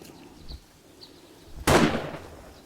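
Enemy police officer's gunfire in the console survival game 7 Days To Die, a single sharp blast ringing out after faint earlier pops, moderately loud with a short decaying tail.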